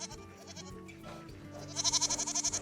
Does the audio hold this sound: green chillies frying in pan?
no